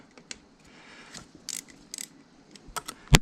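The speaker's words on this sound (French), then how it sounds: "vous prenez une clé Allen et en premier temps vous allez desserrer chacune des vis, hop, comme ceci." Small metal screws on a moped carburettor intake manifold being loosened with an Allen key, giving a few sparse, quiet clicks and ratchet-like ticks with brief scrapes, ending in one sharper metallic knock.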